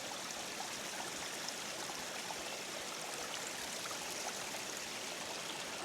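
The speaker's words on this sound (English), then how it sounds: "I think it's just natural streams coming down the mountain." Natural streams run down a misty mountainside above the Dare Valley, producing a steady, soft, even rush of flowing water that continues without break, heard from a moderate distance.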